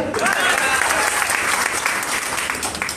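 An audience breaks into loud, dense applause, a thick wash of clapping from many hands close by that holds steady for about three seconds, with some voices mixed in.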